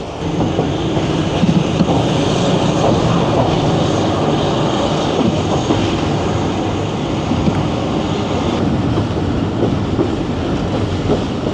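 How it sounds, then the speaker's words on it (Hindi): The 47 Up Rehman Baba Express rushes past at Jhelum station, a loud, continuous rumble and roar of wheels and carriages that holds steady for the whole span, heard close from a crossing train. "झेलम स्टेशन पर हमें क्रॉस किया 47 अप रहमान बाबा एक्सप्रेस ने"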